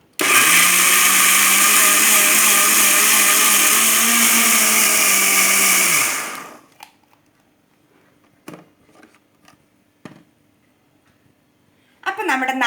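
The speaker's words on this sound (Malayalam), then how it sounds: "അപ്പം നമുക്ക് ആദ്യം തന്നെ ഈ നാളികേരം ഒന്ന് അരച്ചെടുക്കാം" An electric kitchen mixer grinds coconut, cumin and shallots with a loud, steady whirring roar for about six seconds, then stops. Quiet clicks and handling noises follow before the motor starts up again at the end.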